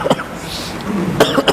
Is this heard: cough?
yes